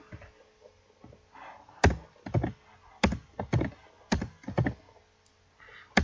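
Someone types C++ code on a computer keyboard in close, irregular bursts of sharp keystrokes separated by short pauses, with no talking.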